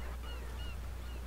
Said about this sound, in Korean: 갈매기 소리. 갈매기. 다 갈매기야?